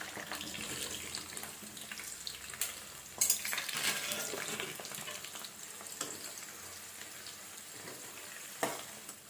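Onions frying in a pan for gongura curry, a steady soft sizzle with occasional scrapes and clinks, plus a brief louder rustle near the start; fairly faint and continuous throughout.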